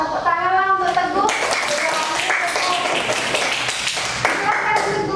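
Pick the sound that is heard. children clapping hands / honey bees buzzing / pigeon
children clapping hands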